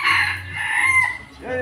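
A junglefowl (labuyo) rooster crows close by, one loud drawn-out call lasting about a second, followed by a brief cluck at the end.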